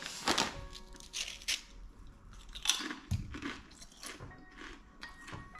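Balsamic vinegar Kettle Chips crunched and chewed up close, a run of irregular crisp bites and grinding chews with short pauses between them.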